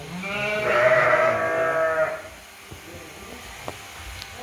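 A purebred sheep bleats loudly for about two seconds, a wavering nasal cry, followed by quiet outdoor background with a few faint clicks.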